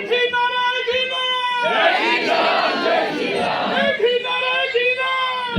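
A crowd at a Patiala political rally in the Lok Sabha campaign roars the Jai Shri Ram slogan in answer to a leader's call, a loud swelling group shout between stretches of amplified speech.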